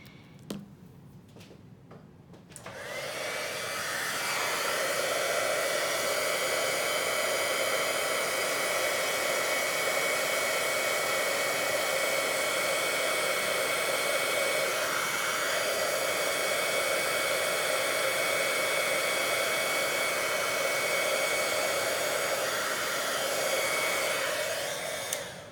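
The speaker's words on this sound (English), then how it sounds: "And then I'm going to bring in my heat gun." A heat gun blows steadily to heat set embossing powder on a handmade Christmas card, a loud continuous whooshing hiss with a whining tone that starts after a brief click and runs unbroken for over twenty seconds.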